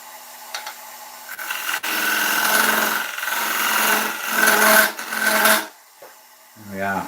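A skew chisel cuts an ash wood bowl turning on a lathe, giving a scraping, rushing sound that rises and falls in passes. The cutting stops and someone speaks at the end.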